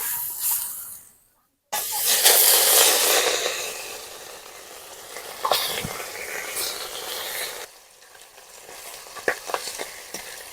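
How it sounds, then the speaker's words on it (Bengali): Pieces of rohu fish fry in hot oil in a wok, a loud steady sizzle and hiss with stirring scrapes, broken by a brief pause and then a quieter, crackling stretch. "এর বাকি যে মাছগুলো আছে একই রকম ভাবে ভেজে নেবো।"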